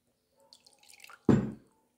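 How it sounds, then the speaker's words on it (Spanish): A teaspoon of water dripping into a small container for a honey purity test: a few faint light taps, then one clear, close splash that quickly fades in a quiet room. "vamos a necesitar agua, nada, unas gotitas, un recipiente para ponerla, nada, como una cucharadita de agua"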